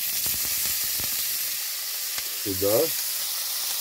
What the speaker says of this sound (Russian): обжариваем по-быстрому, потому что у нас раскаленное